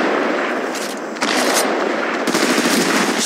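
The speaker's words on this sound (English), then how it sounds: "Shooting." Rapid automatic gunfire from the Apex Legends Mobile battle royale game crackles in dense, loud bursts, with a short break before a second sustained volley.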